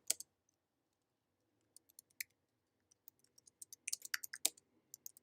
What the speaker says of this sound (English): I'm typing something in right now.